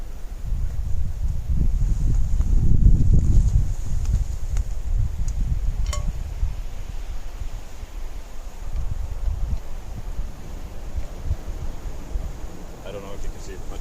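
Wind blowing outdoors during a day hike in Tasmania, a steady low rumble of gusts buffeting the microphone, swelling near the start and then settling into a constant background wash.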